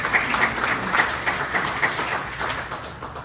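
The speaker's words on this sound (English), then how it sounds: "So how about a round of applause for Hugo for that?" A club meeting audience applauds Hugo, a moderate burst of clapping with slightly uneven rhythm, close and steady for a few seconds without talk.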